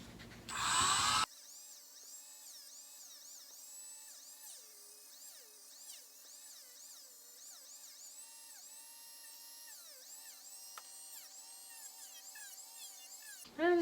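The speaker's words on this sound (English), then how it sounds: "Today I'm using a 320 grit sanding barrel on my rotary tool." A high, thin whine from a rotary tool with a 320 grit sanding barrel working craft foam, its pitch dipping and rising as it bears on the material, fairly quiet, with short louder bursts at the start and end.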